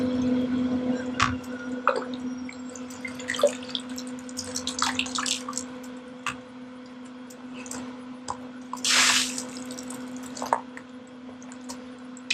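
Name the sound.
water flushing through a spin filter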